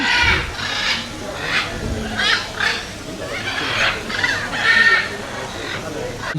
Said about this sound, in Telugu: ఇదిగోండి, దీన్ని మకా అంటారు అనుకుంటా, పక్షులు